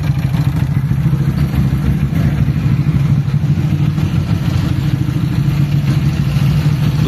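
A tuned Honda CG motorcycle with a 212cc alcohol-fuelled engine rumbles with a loud, steady low chugging as it idles and pulls away, close by, with no talking over it.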